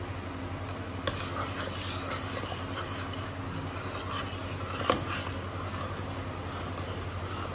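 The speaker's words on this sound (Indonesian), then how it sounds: "kita aduk sampai mendidih" A pudding mixture of milk, evaporated creamer, agar, sugar and pandan leaves is stirred in a pot as it comes to a boil: quiet scraping with a couple of sharp spoon taps against the pot, over a steady low hum.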